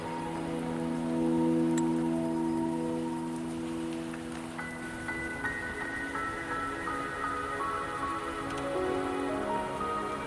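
In Wuthering Waves, a video game, rain patters gently and continuously beneath layered ambient music tones that shift partway through, with no one speaking.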